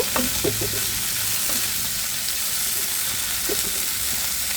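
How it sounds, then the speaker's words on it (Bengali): Pieces of bain eel fish fry in a pan with a steady loud sizzle, broken by a few clattering turns and stirs as the fish is flipped, no voices. "আমি আবার একটু উল্টো পাল্টে দিচ্ছি দেখো বন্ধুরা বাড়ি মাছটা কিন্তু ভাজা হয়ে গেছে হালকাভাবে"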